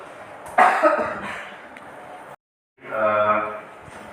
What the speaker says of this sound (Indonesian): Saya mau batuk